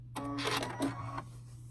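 A sewing machine runs briefly while stitching English paper pieces together, a short whirring burst of about a second that stops abruptly, close by over a faint steady hum.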